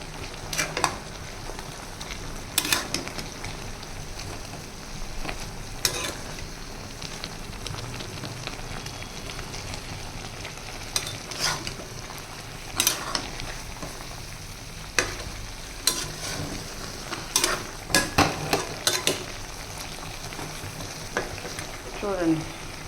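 Ginger garlic paste sizzles and fries in a hot pan while a spoon stirs it, the steady crackle broken by repeated sharp scraping clicks throughout, with no talking.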